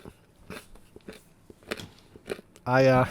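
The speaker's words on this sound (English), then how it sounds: "I eat this piece of chicken. Oh, it's so crunchy." Close biting and chewing on a crunchy piece of chicken, several crisp crunches at irregular intervals, ending in a louder burst, with a voice talking around the bites.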